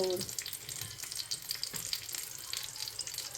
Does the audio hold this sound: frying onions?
yes